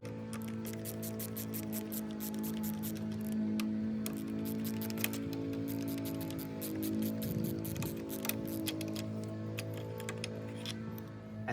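Quiet clicking and ticking of a screwdriver unscrewing a guard plate from an entrance door, with small irregular metallic clicks and a brief scrape, close and faint, no talk.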